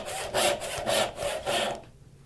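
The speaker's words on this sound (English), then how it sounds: "Now I'm just cutting down the opposite side. Until I've got my tenon." Close handsaw strokes cutting down the cheek of a wooden tenon for a draw-bore mortise and tenon joint, four steady rasping back-and-forth strokes in an even rhythm, then the cut stops and falls quiet.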